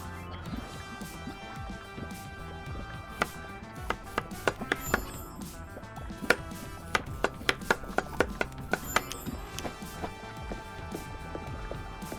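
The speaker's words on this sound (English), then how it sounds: "I'm just gonna chop up 2 at a time, or 1 of each" Knife chopping in the kitchen game Chef Life, Chez Mario restaurant, comes as a rapid run of crisp, close chops against a board. The strikes arrive in quick bursts, and a steady hum of kitchen ambience runs beneath them.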